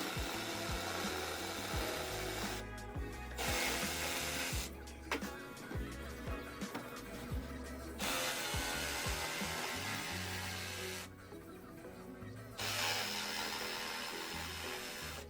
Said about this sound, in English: Here I'm cutting out the notches.